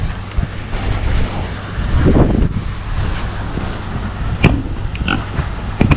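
Pigs at a farm feeder grunt and snuffle close by, with steady wind buffeting and rumbling across the microphone throughout.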